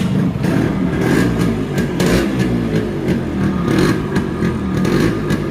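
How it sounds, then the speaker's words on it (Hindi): A restored Yamaha RX-100 motorcycle, kick-started and running, gives a loud, steady engine note with uneven revving pulses close by and no talking. "इसको किक मारता हम स्टार्ट करते हैं।"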